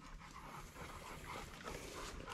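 Dogs eat spilled dog food off the ground in a yard, panting and snuffling close by with faint whimpers over a steady outdoor background.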